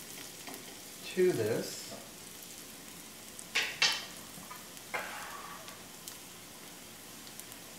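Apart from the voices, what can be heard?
onions sautéing in a pan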